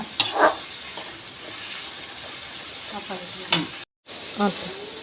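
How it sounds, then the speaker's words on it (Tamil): Chopped garlic sautés in a pan for a Tamil dried vanjaram fish thokku, giving a soft steady sizzle broken by a few louder stirring scrapes and a brief dropout near the end. "இப்போ பூண்டு போட்டுடலாங்க இதை நல்லா வதங்கணுங்க"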